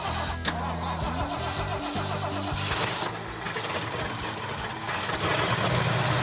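A Chevy S-10 mini truck with a low-fi build, its engine cranking and catching, then running loud and steady close by with a rough, throbbing idle. No one speaks over it.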